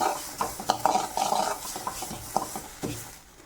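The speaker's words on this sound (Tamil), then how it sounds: "கை நிறைய வச்சுருக்கிற ஒரு கருவேப்பிலையும் லைட்டாக போட்டு வறுத்துக்கலாம்" Curry leaves being stirred and roasted in a pan while making sesame chutney give a run of close scraping and rustling strokes with small clinks, fading toward the end.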